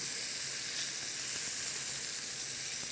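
Duck breast searing skin-side down in a hot pan, a dense, continuous crackling sizzle heard close and steady throughout, with no voices.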